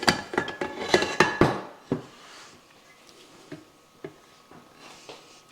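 A spatula scrapes around the sides of a bowl of yeast roll dough, with a quick run of clinks and scrapes at first, then sparse, softer taps against the bowl.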